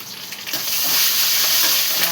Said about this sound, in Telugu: అలాగే కరివేపాకు వేసాం కాబట్టి పోపులు వేగిపోతున్నాయి.